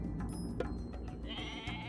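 A goat in the Age of Mythology video game bleats once, a short wavering cry set against game music and effects, fairly quiet overall.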